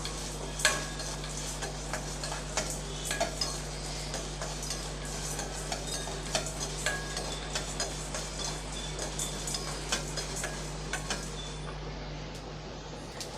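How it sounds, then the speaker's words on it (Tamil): Sambar masala ingredients dry roasting in a pan over a medium flame until golden, with steady scraping and light ticking from stirring over a constant low hum; no one speaks. "இதை நல்லா பொன்னிறமாக நல்லா வறுத்து எடுத்துக்கலாம்"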